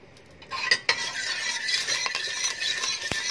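Butter melts in a pot for a dried bean and meat stew, a spoon scraping and clinking against the metal over a light sizzle, close up and without talk.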